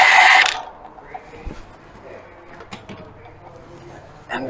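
A bolt being loosened with a ratchet during transmission removal on a 2012 Ford F150, a loud burst of ratcheting followed by scattered metallic clicks and clanks, with a voice speaking briefly.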